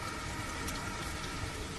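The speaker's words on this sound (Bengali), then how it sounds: "ঝমঝম করে মুষলধারে বৃষ্টি।" Heavy rain pours down in a steady, even hiss that is unbroken and moderately loud throughout.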